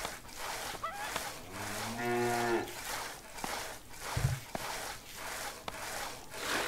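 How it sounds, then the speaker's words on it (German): A cow gives one drawn-out, low moo in Stronghold Definitive Edition, faint over a quiet game backdrop with soft rhythmic scraping sounds and a brief low thump afterward. "Die alte Bessie verhält sich ein bisschen komisch, mein Lord. Viele andere Kühe ebenso"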